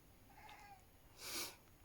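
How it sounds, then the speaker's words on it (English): A house cat at a window yells at birds outside, giving a short faint meow-like call followed by a louder, brighter squawking yowl, near and alone. "my cat's yelling at the birds."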